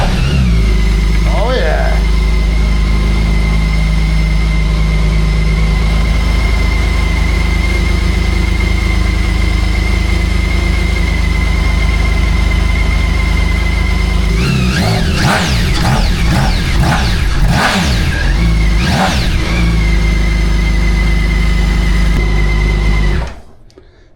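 A BMW K 1600 B motorcycle fitted with a new exhaust starts up and settles into a loud, steady idle, then several quick throttle blips rise and fall before the engine shuts off; a voice speaks briefly.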